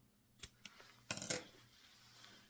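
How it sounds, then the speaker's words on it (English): Scissors snip off the two tag ends of a lanyard cord: two faint clicks followed by a brief, sharper close cutting snap, then quiet. "we are going to just cut these two tag ends off"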